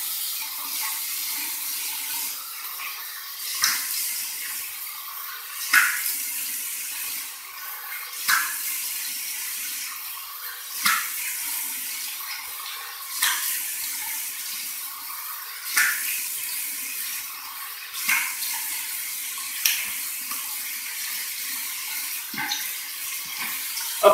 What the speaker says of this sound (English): go to a nice warm water rinse right out of the tap